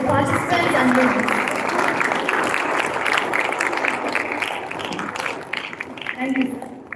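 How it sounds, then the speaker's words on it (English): An audience at a gavel club grand finale applauds participants and winners, loud clapping that gradually thins out, with voices speaking over it. "Audience, please give a huge round of applause to participants and winners."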